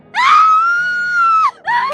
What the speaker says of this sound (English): Tiana screamed and ran back inside.